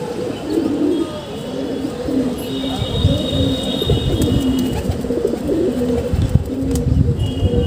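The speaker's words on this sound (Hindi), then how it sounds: "दोस्तों ये कबूतर नीचे आ गया एक" A large pigeon settles down after landing, giving soft repeated coos over a steady outdoor background with faint chirps from other birds.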